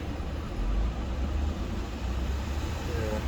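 A Honda Pilot engine idles in 99-degree heat, a low, steady rumble with a faint whirring on top, close and constant throughout.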